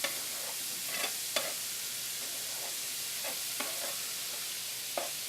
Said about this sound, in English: you hit a nice sizzle